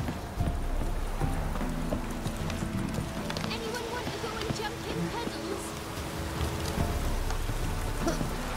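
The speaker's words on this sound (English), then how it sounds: "Looks like rain." Rain patters steadily in The Witcher 3, mixed with a horse's hooves clip-clopping and faint game ambience, with voices heard at moments.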